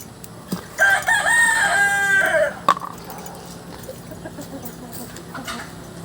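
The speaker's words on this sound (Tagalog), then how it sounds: "Magpapatuka tayo ng mga manok." Farm chickens at feeding time: a rooster crows one loud cock-a-doodle-doo close by, followed by softer scattered clucking from the flock.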